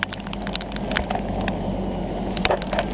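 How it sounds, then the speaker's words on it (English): A rare flash flood sends water rushing through a normally dry creek bed in Phoenix, Arizona, during rains from a hurricane. The roar is steady and broadband, with no talk over it. "That water's running a good 20 to 25 miles per hour right there."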